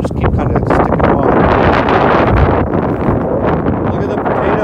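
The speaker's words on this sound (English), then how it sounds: "we're in a super windy field here right now" Strong wind sweeps across an open field and buffets the microphone in a constant, heavy roar with no pauses, loud and close throughout, with no clear voice above the rumble.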